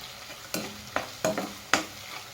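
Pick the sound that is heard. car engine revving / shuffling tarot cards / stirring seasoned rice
stirring seasoned rice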